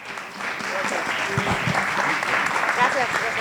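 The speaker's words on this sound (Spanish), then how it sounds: "Pedro Salmerón, por favor," Warm audience applause at a book presentation welcoming a historian to the stage, building quickly into a dense, even patter of many hands that carries on steadily with faint voices mixed in.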